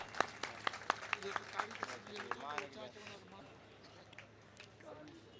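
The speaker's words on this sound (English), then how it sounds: "Will you please clap for our guests?" Audience applause at the concluding ceremony of a cultural event in a hotel in Larkana: scattered, fairly close claps in the first couple of seconds under a voice over a speaker system, then fading into room murmur.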